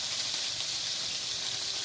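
Burger sauce caramelizes on a hot grill, a steady bright crackling hiss with no voices, close and fairly quiet.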